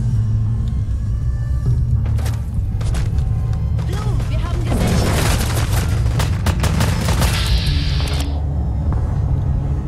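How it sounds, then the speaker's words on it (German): Gunfire in the video game Fallout 4, a dense run of loud bursts and booms over a steady low rumble, with a sustained high whine near the end. "Habt ihr gerade auf Piper geschossen?"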